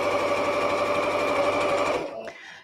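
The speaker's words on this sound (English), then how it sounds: "I'm just going to stop with my needle down as I'm sewing" A sewing machine stitching piping at a 2.5 mm stitch length runs loud and steady, close up, for about two seconds before slowing and stopping with the needle down.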